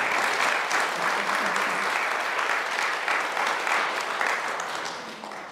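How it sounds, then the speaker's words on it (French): An audience at a poetry evening in Saint-Casimir breaks into warm sustained applause, even clapping that holds steady and tapers slightly toward the end, with no voices over it. "oui, on peut les applaudir"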